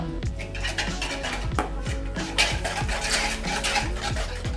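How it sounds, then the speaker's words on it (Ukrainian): A utensil scrapes and clinks rhythmically against a bowl in steady, repeated stirring strokes, mixing egg and sugar, close by. "До яйця додаємо цукор і перемішуємо."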